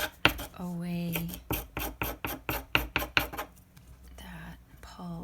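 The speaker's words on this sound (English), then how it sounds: "all I'm doing is using the edge of a spoon to scrape" A metal spoon's edge scrapes pulp from pineapple leaves for fiber cordage in a quick run of rhythmic strokes, close and distinct, followed by a few slower scrapes.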